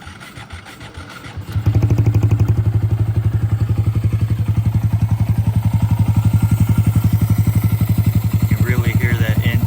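A 2022-or-later Honda Grom motorcycle fitted with an MNNTHBX aftermarket intake starts up close by after a brief quieter lead-in. It then settles into a loud, steady, even-pulsed idle that continues to the end.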